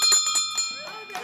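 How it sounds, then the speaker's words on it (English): A ceremonial town crier hand bell, engraved with names, rings in bright, sustained metallic strokes that overlap and keep resonating, with people's voices close by underneath. "town crier bell for you with your names engraved on it."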